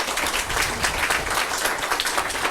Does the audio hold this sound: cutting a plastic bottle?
no